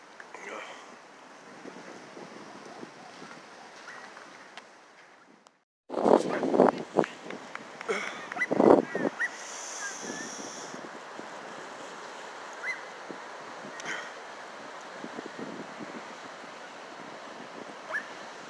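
Ocean waves washing onto Dog Beach in San Diego early in the morning as the tide comes in, a continuous surf hiss with wind buffeting the microphone and a louder burst of breaking water partway through.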